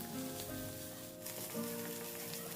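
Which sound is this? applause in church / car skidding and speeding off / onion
onion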